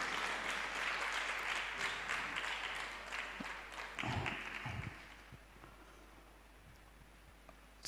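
A church congregation claps in loud, dense applause that swells, then fades over the final few seconds into a quieter room.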